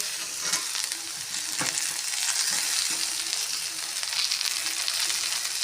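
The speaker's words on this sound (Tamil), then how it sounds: "இன்னும் ஒரு 2 தக்காளி போட்டுக்கிறோம்மா." Tomatoes added to ginger garlic paste sauté in a hot pan with a broad, continuous sizzling hiss and occasional scraping stir sounds, close and steady, with no talking.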